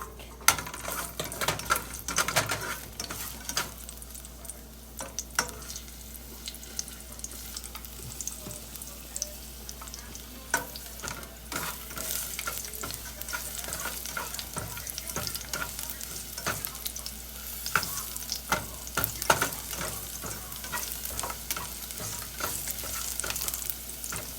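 Garlic frying in a warm pan of oil, a steady close sizzle with frequent light utensil scrapes and clicks throughout, no talking.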